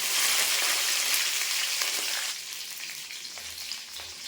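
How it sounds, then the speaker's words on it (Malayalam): Mustard seeds, dried chillies and curry leaves fry in hot oil with a steady, close hiss and crackle that eases slightly partway through. "അപ്പം എണ്ണ ചൂടായി ഇതിലേക്ക് നമുക്ക് 1/2 ടീസ്പൂൺ കടുക് ഇട്ട് കൊടുക്കാം"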